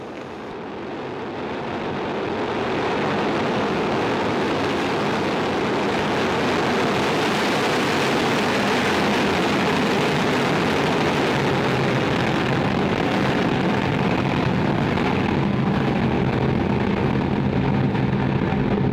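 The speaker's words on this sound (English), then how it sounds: "Liftoff." An Arianespace Soyuz rocket carrying SES-15 on flight VS-17 lifts off with a deep, broad roar that swells over the first few seconds and then holds a continuous, powerful rumble, heard from a distance with no talk.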